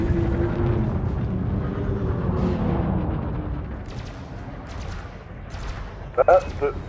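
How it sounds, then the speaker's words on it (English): An enforcer cannon in a space combat game fires in a rapid, dense burst of booming shots that fade over several seconds, with a few faint bursts later and occasional voice chatter. "Oh wait, I've got a enforcer cannon."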